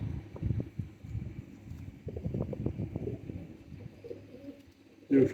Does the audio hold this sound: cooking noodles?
no